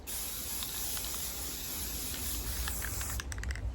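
A can of spray paint hisses continuously onto baskets, close and loud, then sputters into a few short bursts near the end with light clicks.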